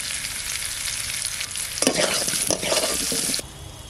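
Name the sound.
potato frying in oil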